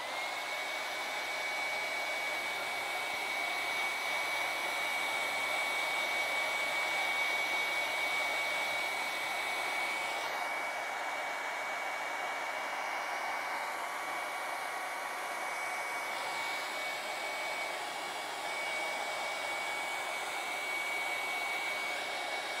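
Hair dryer blowing steadily over wet acrylic paint on a winter bird painting, a loud continuous whooshing roar held close for the whole stretch with only slight shifts in tone and no speech.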